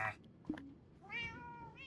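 A cat in a Minecraft world meows, one short call followed by a longer, clear tonal meow near the end, quiet and alone with no talk.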